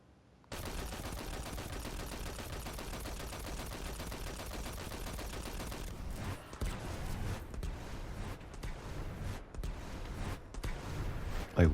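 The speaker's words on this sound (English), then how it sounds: "It's like one ignition is leading to another." Solar ignitions chain one after another in Destiny 2, triggered by Burning Ambition with the Ringing Nail: a dense, continuous barrage of rapid explosive bursts, loud and sustained, growing more ragged with sharp cracks toward the end.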